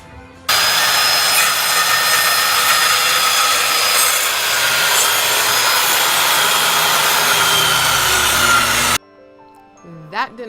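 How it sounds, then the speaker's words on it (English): A circular saw cuts off crown molding during a basement built-in project, a loud, steady grinding whine held for about eight seconds before it stops abruptly, followed by faint clattering. "we're gonna use a circular saw and just cut it off"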